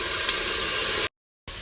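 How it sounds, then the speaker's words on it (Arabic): Four crushed garlic cloves and onion are stirred in a hot pan, giving a steady, loud, close sizzle. It cuts out briefly to silence and then resumes just as strongly. "هرست 4 فصوص ثوم وحطيتها وحقلبها نص دقيقة"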